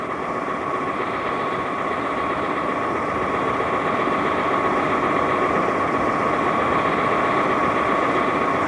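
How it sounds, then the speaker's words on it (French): Steady mechanical motor drone with a constant hum and faint vibration, continuous and loud at close range with no breaks and no talking. "un bruit de moteur, carrément"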